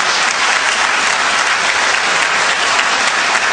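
An audience applauds a poet at a poetry recital, loud dense clapping that holds steady throughout with no voices over it.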